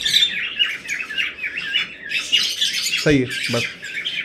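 Opaline budgerigar chicks chirp in busy, overlapping high tweets and squawks throughout, close and lively, with a brief spoken remark near the end.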